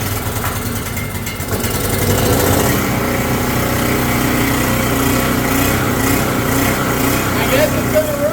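A small Coleman Powermate 1850 portable generator engine, run without an air filter, catching from full choke and settling into a loud, steady, slightly uneven running drone with some voice over it.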